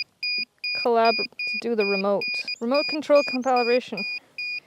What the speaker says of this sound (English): So we just gotta listen to this incessant beeping while we fucking try and fix this.